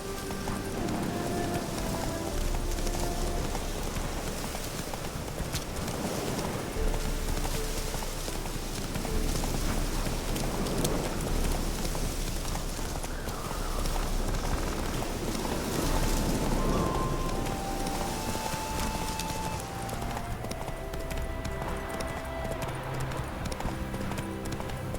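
Roach, a horse in The Witcher 3, gallops through rain with steady, continuous clip-clop hoofbeats over a constant wash of rainfall, an occasional whinny and some brief speech mixed in.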